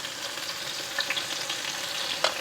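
Fenugreek, fennel, cumin and mustard seeds sizzle steadily in hot coconut oil, a close, continuous crackling hiss with a few brief popping spikes and no voices.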